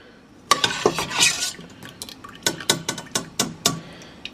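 A slotted spoon scoops pickles out of a pot, making close metallic clinks and scrapes against the pot. The taps are irregular, then become quicker and more regular toward the end.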